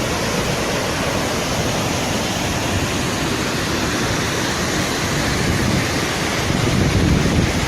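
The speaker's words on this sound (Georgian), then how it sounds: "ჩანჩქერი 3 ეტაპად ჩაედინება ნაკადიმში კლდეებს შორის" Badzgireti waterfall, which drops in three stages between steep cliffs at about 2000 m, fills the air with a loud, continuous, unbroken roar of rushing water, close and constant throughout.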